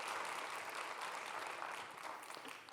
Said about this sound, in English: I just like to give them all a big round of applause